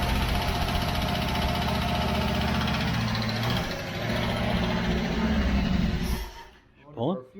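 A Dodge 318 V8, fired up for the first time in ten years, idles with a rough, steady rumble for about six seconds before cutting out abruptly, followed by a brief voice.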